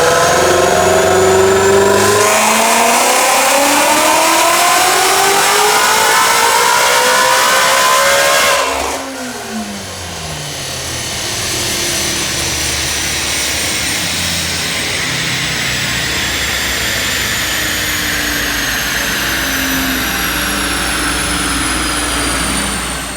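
A supercharged 2017 Ford GT350 with long-tube headers and a custom tune screams up through its revs on a dyno, climbing loud and steady, dropping briefly, then holding a sustained high-rpm roar with supercharger whine.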